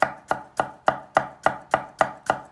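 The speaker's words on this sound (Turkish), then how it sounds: "Şimdi bıçakla doğramaya başladık. Hep aynı yere vuracağız." Steady, evenly spaced knife chops striking a cutting board, about nine sharp close-up thuds in a quick regular rhythm, with no voices.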